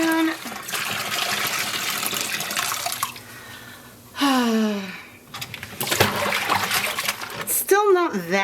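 Running water from a tap fills a container for rinsing hand-dyed yarn, a steady gushing stream interrupted by pauses and a rising fill tone, with a person talking over parts of it.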